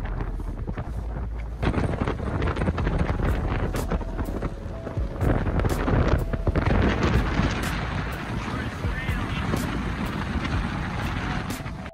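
Strong, cold wind on the John Muir Trail near Garnet Lake buffets the microphone throughout, a loud continuous roar with gusty surges and rumbling low end, no voices heard.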